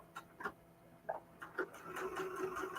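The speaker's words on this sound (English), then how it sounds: "I'm sewing that little short bit before my opening spot right now" Home sewing machine stitching a short length of fabric with yellow thread, quiet bursts of needle clatter that start and stop, then a steadier faint run of stitching.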